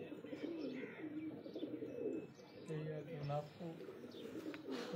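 Pigeons on a rooftop loft in Mianwali coo in low, repeated rounded calls with a few chirps, close by and steady, while someone talks over them throughout.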